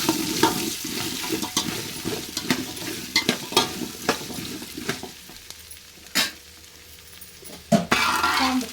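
Jackfruit pieces fry in a spiced oil tempering in a pan, with a steady soft sizzle broken by sharp scrapes and clacks of stirring, close by and with no voices.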